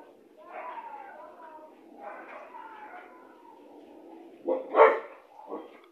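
A dog barks in a couple of sharp, close bursts near the end, following a stretch of muffled voices and background murmur.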